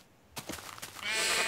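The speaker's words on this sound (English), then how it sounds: "Ooh, sheep. I'll kill you, sheep." A sheep bleats inside a Minecraft-style game world, one short call breaking out after faint game noises and rising into a loud, sustained bleat close by, with no talking over it.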